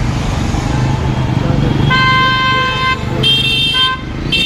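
A car horn honks in repeated short toots, two clear blasts followed by a shorter one, loud and close over road and engine noise from a car being driven.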